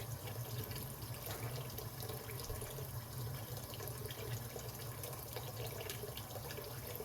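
Very hot water pours steadily from a kitchen tap, a constant soft splashing rush that stays even from start to finish with no voices over it.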